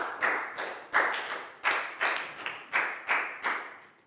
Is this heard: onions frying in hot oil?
no